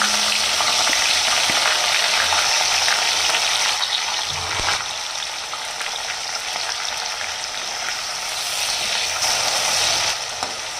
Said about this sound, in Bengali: এবার দিয়ে দেবো পেঁয়াজ। আমি পেঁয়াজ দিয়ে দিচ্ছি।